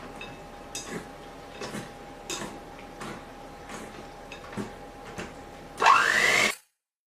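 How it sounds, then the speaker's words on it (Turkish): An electric hand mixer whisks packet pudding mixture in a bowl, giving a steady thin hum with rhythmic knocks of the beaters, then a louder rising whir just before it cuts off to silence. "Şimdi dikkatli bir şekilde çırpıyorum bunları."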